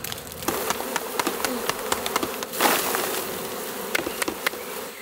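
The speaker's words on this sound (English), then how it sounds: "Next step is to shake some bees into the bucket." Honey bees buzzing loudly up close as they are shaken from a hive into a bucket, a dense, steady insect drone with sharp flyby whines and a brief thumping rush midway, no talk.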